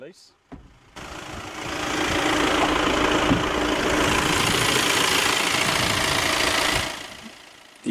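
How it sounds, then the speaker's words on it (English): A 2016 Volkswagen Tiguan Highline's 2-litre TDI turbo diesel engine idling, a steady, loud low rumble with diesel clatter lasting about six seconds, with brief quieter sounds before it and a cut-off near the end. "The engine is a 2-litre TDI turbo diesel."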